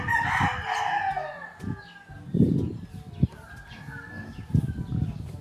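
A rooster crows a couple of times at a moderate distance in Ilocos Sur during windy typhoon weather, with scattered fowl noises and soft thumps in between.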